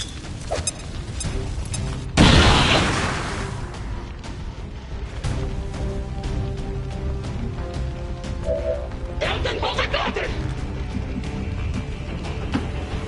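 A grenade goes off in the XCOM 2 War of the Chosen game, one loud, sharp blast rising out of steady battle ambience and decaying over a couple of seconds, with further clatter and combat noise following.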